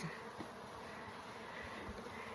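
A dense, steady hum of many Carniolan honeybees buzzing close by from an opened shipping box, low and continuous with no pauses and no voices.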